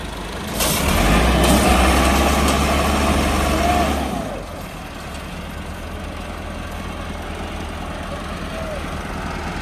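Several tractors straining to pull a loaded trolley loose, a loud heavy engine roar for a few seconds that then drops to a lower rumbling idle, with a voice talking in the background.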